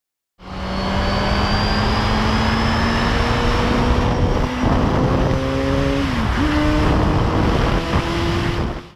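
A 2017 Suzuki GSX-R1000 motorcycle roars past at speed, a loud sustained engine howl that starts abruptly and holds at a high pitch, shifting as it changes gear partway through.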